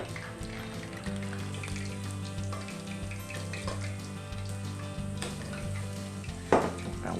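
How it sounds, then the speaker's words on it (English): Chicken wings fry steadily in hot oil, a continuous loud sizzle and crackle with no pauses, broken once near the end by a brief sharper burst. "keep these wings separated while they're cooking so they don't bunch up together"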